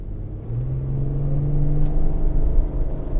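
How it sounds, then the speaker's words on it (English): A car with a 4-litre engine accelerates hard, a deep rising engine rumble with a climbing tone that swells steadily in loudness, close and alone without talk. "when you do stamp on the accelerator with a 4-litre engine, it does go"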